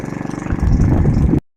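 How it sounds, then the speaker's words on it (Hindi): Motorbike ridden through a rural area of Sindh in light rain, its low engine rumble pulsing close by, then swelling into a fuller roar before cutting off abruptly. "सजाद यहाँ पर बाइक चला रहा है मेरे साथ"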